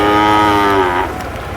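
A bull at a Sangola cattle market gives one loud, close, drawn-out moo lasting just over a second, tapering off at the end.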